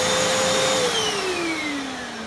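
A Hoover FloorMate vacuum cleaner whines steadily at close range, its motor tone sliding gradually lower as it runs alone without speech.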